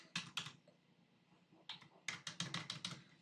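HTML and CSS code is typed on a computer keyboard in quiet bursts of crisp, close clicks. A short flurry comes first, then a pause, then a faster run of keystrokes. No one speaks.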